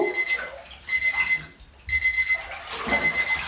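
A timer alarm beeps in bursts of rapid electronic tones, with two short pauses between loud repeated runs, close and alone.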